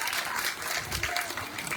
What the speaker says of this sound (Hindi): मैडम जी के लिए सबसे बार ताली ठोक दो भाई।